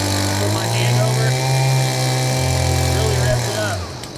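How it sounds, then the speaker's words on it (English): A Stihl BG50 gas leaf blower engine revs hard with a hand covering the outlet, a loud buzzing two-stroke whine that holds steady, shifts pitch slightly as back pressure builds, then drops away at the end; close and continuous. "You can really hear that engine rev up."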